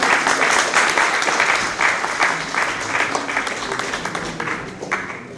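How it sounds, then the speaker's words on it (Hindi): Enthusiastic applause from a crowd, a dense burst of clapping that stays strong throughout and eases slightly toward the end. "तालियों से जोरदार ताली।"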